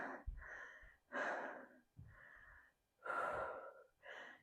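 Slow, deep breaths during a quad stretch in a workout, close and audible, with several drawn-out inhales and exhales in a steady rhythm.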